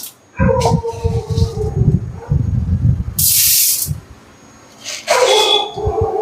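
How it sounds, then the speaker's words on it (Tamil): Urad dal dropped into hot oil in a pan, bursting into a loud, close sizzle and hiss in uneven surges, with a brief steady spray-like hiss and pauses between them. "எண்ணெய் வந்து நல்லா காஞ்சிருச்சு இப்போ நம்ம உளுந்து போட்டுக்கலாம்"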